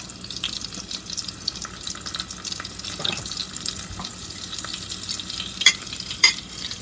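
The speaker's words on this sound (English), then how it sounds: "my oil has been heating up here, so I'm going to toss in some salt" Salt and black pepper crackle and sizzle steadily in hot cooking oil, with soft scraping and stirring noises and a few sharp pops near the end.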